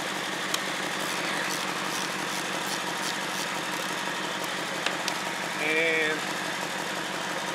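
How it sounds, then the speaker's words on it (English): A 2008 BMW X5 E70 with a transmission fault idling steadily, a low even engine hum throughout, joined briefly by a short whining tone near the end; a voice speaks briefly. "Okay, so the vehicle is running."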